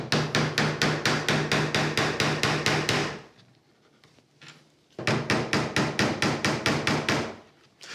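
A hammer drives nails into a wooden board for a DIY living plant wall, striking in rapid, evenly spaced blows, pausing briefly, then resuming with another close, loud series.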